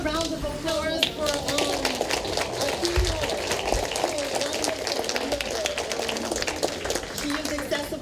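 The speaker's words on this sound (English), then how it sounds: "Another round of applause for" An audience applauds at an education talk on confronting borders in schools, a dense, steady patter of clapping that lasts throughout, with voices talking over it.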